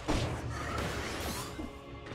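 A heavy smash attack lands in the Dead Cells video game, a loud dense thud and crash opening the moment, followed by rumbling game noise and a few smaller hits.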